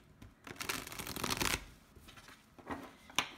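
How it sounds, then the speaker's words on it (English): A new Star Tarot card deck being shuffled by hand, riffling bursts of card flutter with a longer run in the middle and a few brief snaps afterward, close and clear. "So let's give it a quick shuffle."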